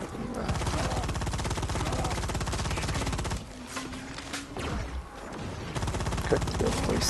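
Rapid gunfire rounds hit the Juggernaut in Firefall, a steady loud rattle of shots with a short pause near the middle before the firing resumes, and a voice speaks over part of it.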